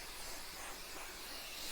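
Temporary fabric adhesive sprayed from an aerosol can onto fabric for sewing oven gloves, a steady, faint, broad hiss lasting the whole moment with no pauses.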